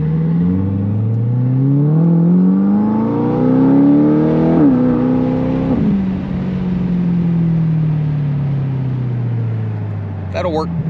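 A 2022 Corvette's exhaust, heard from inside with the top down while driving, rising and falling through gear changes in a loud continuous drone, with a voice speaking faintly over it.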